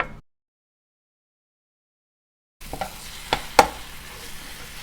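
Osso buco meat browns in a pan, with a brief sizzle at the start, then a stretch of total silence, then sizzling returns with a few sharp scrapes and knocks close by.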